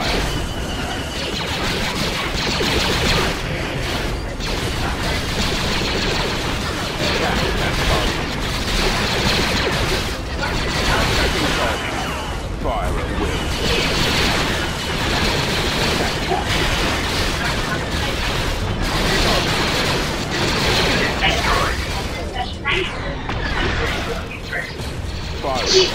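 Dense, continuous blaster and cannon fire from a Star Wars Empire at War space battle, a relentless layered barrage of booming shots and crashes that never lets up.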